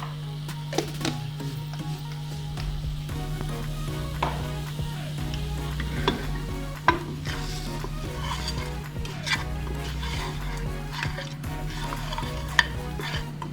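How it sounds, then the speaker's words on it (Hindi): Meat sautés over a very low flame for hot and sour soup, giving a soft, steady sizzle with scattered scrapes and clinks of a utensil against the pan, under a constant low hum. "हल्की, बिल्कुल हल्की आग पर इसे थोड़ा सा भून के इसका कच्चापन ख़त्म हो जाए"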